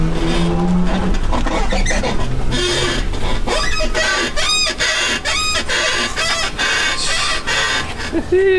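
Suspension of a Tesla Model 3/Y squeaking while driving: repeated sharp, high chirping squeaks come in irregular bursts over steady loud road and cabin rumble.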